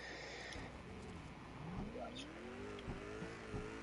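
Race car engine revving in a first-person video racing game on PS4, a rising and falling whine with gear-shift dips, moderately loud with no voices.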